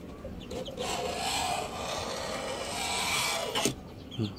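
A sharp utility cutter scores a 5mm thick acrylic sheet in one long, steady scraping stroke of about three seconds, close and fairly loud, followed by a couple of short scratches.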